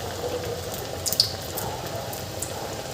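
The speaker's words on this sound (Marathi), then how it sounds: "आणि नंतर तळत असताना मिडियम गॅसवर तळायचे आहे" Toor dal vadas fry in hot oil over a medium gas flame, giving a soft, steady bubbling sizzle with a few small pops rising briefly from the quiet background.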